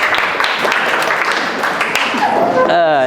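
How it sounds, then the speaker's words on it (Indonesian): Classroom students clap in an Indonesian economics teaching session, a brief scattered patter under a speaking voice, with chatter rising near the end. "tepuk tangan buat kalian semua"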